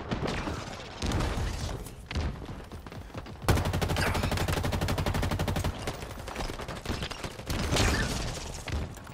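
Burst-fire gun shooting in the Halo video game, rapid clusters of sharp shots with a dense continuous stretch of fire midway, loud and close, mixed with game effects and no talk.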